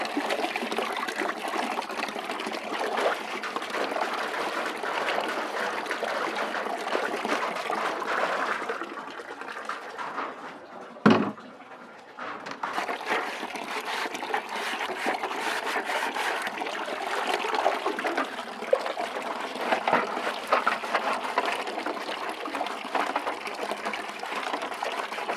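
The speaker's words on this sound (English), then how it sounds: "Again, I can let the water to run more" Water runs steadily from a tap while poultry feeders and drinkers are rinsed clean, a continuous close splashing gush that pauses once briefly midway before flowing on.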